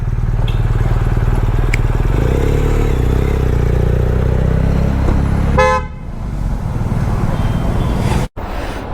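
A 2022 BMW R 1250 GS Rallye motorcycle pulls away on a test ride around Cubbon Park, its engine droning loudly and steadily before fading as it leaves, with a car horn tooting and traffic noise around it.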